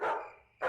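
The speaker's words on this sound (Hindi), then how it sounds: "कुत्ते रात को अक्सर भौंकते हैं।" A dog outside a house at night gives two loud, close barks, one right at the start and another a split second later after a brief fading pause.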